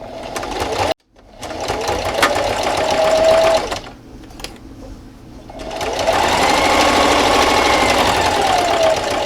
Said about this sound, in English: I'm just going to take this over to my sewing machine and sew down that flap